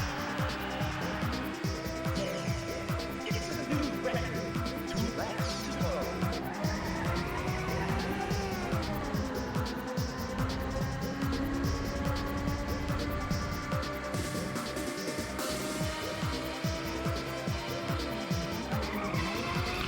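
A car drifting through a corner in Ridge Racer Type 4, tires squealing in a rising, wavering whine over a steady engine roar, with game music and a voice talking throughout.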